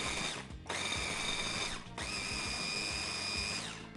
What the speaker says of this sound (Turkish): Bisküvileri yerleştirdim. Rondomu çalıştırıyorum.